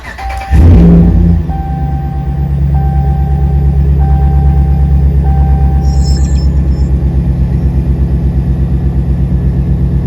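A car engine cranks and catches with a loud burst at startup, then settles into a steady, close, rumbling idle while a faint electronic chime beeps at regular intervals.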